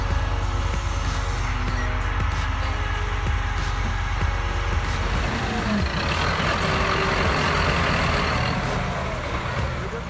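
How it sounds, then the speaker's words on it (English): Heavy logging truck loaded with massive logs, bogged in deep mud, its diesel engine droning loud and steady throughout while a tractor strains nearby, with mechanical clanks and a shift in engine tone partway through. "Even the tractor beast strains with all its strength, but the truck stubbornly refuses to move"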